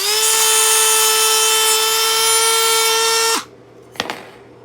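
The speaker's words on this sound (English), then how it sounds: "the easiest method is to use a Dremel" Dremel rotary tool grinding nickel strip, a loud, steady high-pitched whine that cuts off abruptly, followed by a brief clatter.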